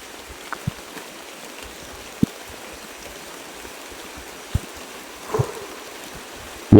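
Heavy rain pours down as a steady, broad hiss close by, with scattered louder knocks and thumps on top and no talking.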